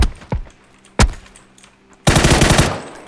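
Gunfire in the video game PUBG: two sharp single shots come first, then a loud sustained burst of rapid automatic fire closes the moment, all near and punchy with no talk over it.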